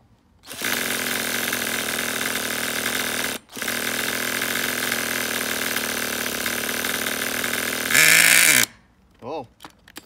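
A Traxxas Nitro Rustler RC truck's nitro engine cranks steadily with a loud, buzzing whine close by. The noise breaks once, then a higher, sharper burst suggests it briefly fires before cutting out, and a voice speaks near the end.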